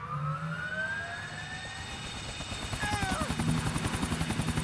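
Helicopter flying in the video game Grand Theft Auto IV, an engine whine rising in pitch before the rotor chop builds into a fast, loud, rhythmic thumping.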